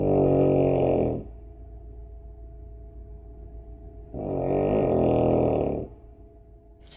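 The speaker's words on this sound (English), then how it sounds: "We say that my mum's snoring makes the roof rattle." A woman snores very loudly in two long, rasping inhalations separated by a few seconds of quiet, close by and with no talking.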